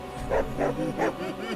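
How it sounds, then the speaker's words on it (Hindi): A dog gives a quick series of three or four short barks, fairly close, with some voice-like sound mixed in. "और हर बार कालू का भौंकना"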